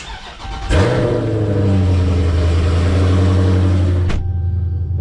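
A Dodge Challenger Scat Pack engine cranks and catches, then holds a loud, steady rumbling idle before a sudden shift in pitch near the end.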